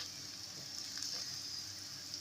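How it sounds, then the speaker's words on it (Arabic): Onions fry in a pan with a soft, steady hissing sizzle, faint and continuous throughout. "البصله بتاعتنا احمرت اهو"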